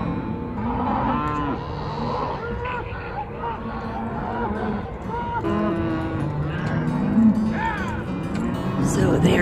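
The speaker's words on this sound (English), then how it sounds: "And yes, the cows are mooing in the distance." Cattle being herded into pens at a shipping yard moo repeatedly in the distance, several drawn-out calls overlapping, while people talk nearby over the lowing.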